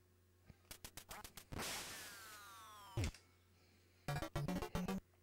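Ducks quack in the video game Duck Hunt: a burst of nasal quacks near the end, after sharp shot clicks and a long falling whistle, all loud against a quiet background.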